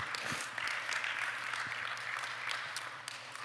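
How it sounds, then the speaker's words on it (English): An audience at a business event applauds, a steady dense wash of clapping at moderate distance, continuous for a few seconds with no talk. "a big round of applause to you"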